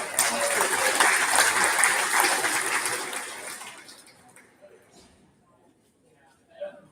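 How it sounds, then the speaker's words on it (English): Audience applause at a cattle show, dense and loud for about three seconds, then fading away into near silence with a faint sound near the end. "let's give Oliver and Maggie a big round of applause"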